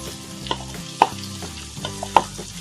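Onions sizzle in a hot pan with green chillies, a soft steady frying hiss broken by a few sharp clicks of a spatula stirring against the pan.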